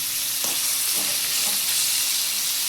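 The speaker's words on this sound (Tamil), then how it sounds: "கொஞ்ச நேரம் நல்லா வதங்கட்டும்." Chopped tomatoes sautéing in a pan for chutney, with salt added: a steady, close sizzle and frying hiss throughout, with a few soft stirring scrapes.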